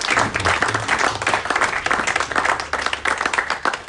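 Church congregation applauding loudly at a Sunday worship service, dense continuous clapping with crowd noise throughout, close and sustained without a break.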